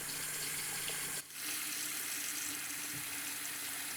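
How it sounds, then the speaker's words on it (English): Water runs from a faucet in a steady, close hiss of flow that barely changes apart from one brief dip. "We turn the faucet on, don't think where our water comes from."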